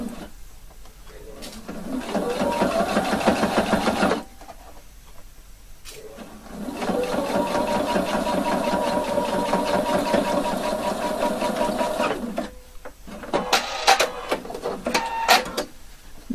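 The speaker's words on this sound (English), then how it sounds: "I'm sewing it 1 centimeter and starting up 1 centimeter from the edge, from the shoulder, and sewing all the way." Close up, a sewing machine stitches a mandarin collar from the shoulder edge in two long bursts of rapid mechanical whirring. Quiet pauses separate them, and a shorter burst of clicking runs come at the end.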